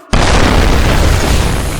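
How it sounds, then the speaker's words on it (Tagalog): A chocolate bomb goes off with a sudden loud boom after a short silence, followed by a sustained, roaring burst of broadband noise that slowly fades over about two seconds. "At sumabog din ang chocolate bomb mo!"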